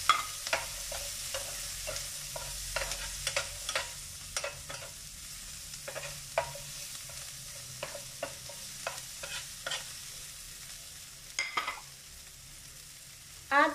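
Garlic sautéing in oil with onions in a pan used for frying, heard as a faint steady sizzle broken by repeated sharp scrapes and clacks of a utensil stirring, at an uneven rhythm.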